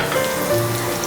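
Finely chopped garlic dropped into hot oil, a soft continuous crackling sizzle heard alone and fairly faint over a brief moment.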